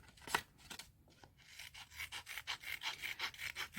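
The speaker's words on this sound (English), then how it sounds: "nail scissors, because it's easier to cut curvy things with nail scissors" Small nail scissors snip through paper in quick repeated cuts, speeding into a steady rhythmic run of crisp snips, close and fairly quiet.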